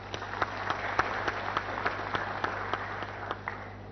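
An audience at an investment outlook talk applauds, a thin, even patter of many hands with individual claps poking out in a steady rhythm, heard at a modest level.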